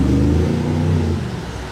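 Lamborghini Revuelto firing up its petrol engine, a deep rumbling rev that rises briefly and then settles and fades into a lower idle, heard from a short distance outdoors.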